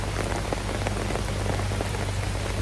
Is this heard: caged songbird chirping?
no